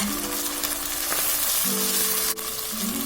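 Tomato dropped into a hot pan of oil for chicken curry sizzles and fries steadily, a close, continuous crackle with faint stirring scrapes and no talk.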